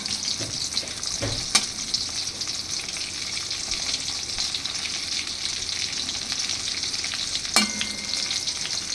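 Chicken popcorn in the style of KFC deep-frying in hot oil at home, a steady, dense sizzle running throughout with a couple of brief clinks or stirs.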